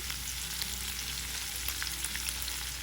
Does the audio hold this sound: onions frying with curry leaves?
yes